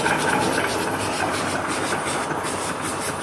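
A Gordon steam engine with its boiler runs an off-grid alternator under load, giving a steady, loud mechanical chugging and hiss that holds an even pace from start to finish.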